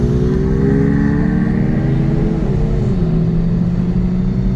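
Two Kia Stinger GT cars with bolt-on modifications, one running 93 and one 100 octane fuel, drone loudly and continuously from inside the cabin as engine notes climb and shift while pulling together in a roll race.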